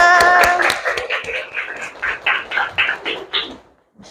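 Classroom students clap together in a burst of scattered hand claps that thins into a few spaced claps and fades out, with faint voices at the start.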